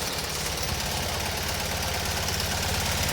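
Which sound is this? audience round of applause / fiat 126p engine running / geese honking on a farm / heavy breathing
fiat 126p engine running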